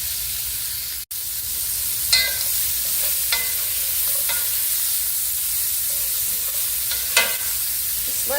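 Smoked sausage browns in a hot pan for a Southern hash, giving a steady close sizzle broken by a few sharp scrapes of stirring and no talk.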